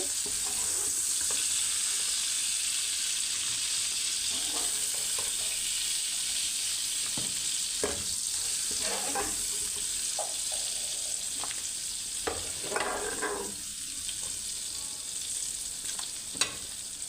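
Prawns sizzle steadily in hot oil in a pan, a continuous close crackling broken by occasional louder spits and pops, with no talking.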